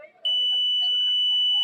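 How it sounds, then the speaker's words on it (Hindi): Continuity tester checking a power IC on an induction cooker power supply board gives a sudden steady high-pitched electronic beep that starts abruptly and holds continuously, loud and close, after a brief moment of faint room noise. "आप सुन सकते हैं यहाँ पर इससे हमारा बीप की साउंड आ रहा है।"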